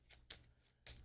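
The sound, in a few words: shuffling a deck of board game cards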